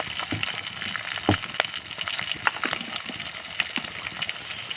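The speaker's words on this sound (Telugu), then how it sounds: "పచ్చిమిర్చి కరివేపాకుని ఒకసారి వేగనియాలి" Green chillies and curry leaves fry in hot oil for a tomato egg curry, giving a steady close sizzle dotted with sharp pops and crackles, with no talking.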